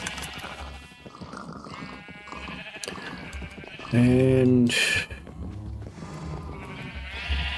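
Sheep bleat in Minecraft, a loud, wavering blocky bleat standing out for about a second amid a player's talk and other game sounds.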